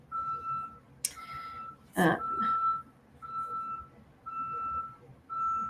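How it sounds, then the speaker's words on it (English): Steady reversing beeps from a neighbor's truck backing up, evenly spaced tones at moderate distance, with a brief word spoken and a clatter in the middle. "That is my neighbor's truck backing up."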